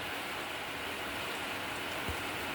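Rain falling outdoors on a day of near-hail weather, a soft steady hiss of drops that stays even and fairly quiet throughout, with one faint low thud near the end.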